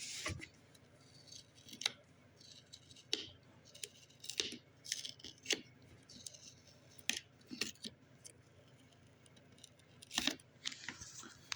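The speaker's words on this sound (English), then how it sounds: "now you get to watch me rip off the sticker" A price sticker is ripped from a thrift-store hardcover book in a few short, sharp tearing bursts separated by quiet handling and rustling, close and fairly faint.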